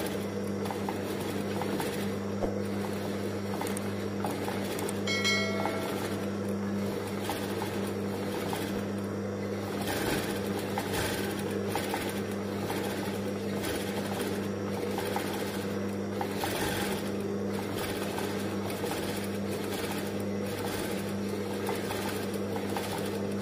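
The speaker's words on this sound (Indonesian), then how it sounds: "ini aku jahit petnya dulu ya teman-teman" A sewing machine runs steadily, stitching two-layer ceruti fabric for a syar'i hijab, a continuous mechanical hum with faint background sounds and no talk.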